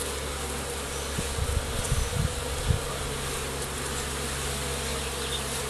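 Bees buzz steadily around an open hive with rotten, squished brood, a dense continuous drone with a few louder passes near the middle and no voices.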